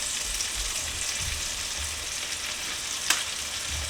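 Chicken browns in a hot pan with a close, steady crackling sizzle, broken by one sharp click near the end.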